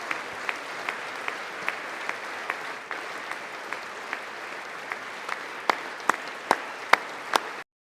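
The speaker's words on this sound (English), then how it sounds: "They're still clapping." Sustained applause fills the chamber at a State of the Union address, a dense steady wash of many hands with a few sharper nearby claps standing out toward the end.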